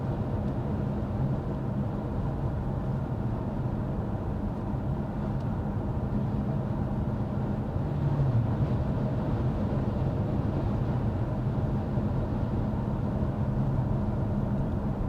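Cabin noise inside a 2023 BMW 330e while driving, a steady low road and engine hum with mild tire rumble, even and continuous, with no talking.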